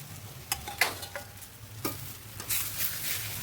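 Fish head dropped into frying cabbage sets off a loud burst of sizzling, with scattered spatters and stirring clatters over a steady frying hiss.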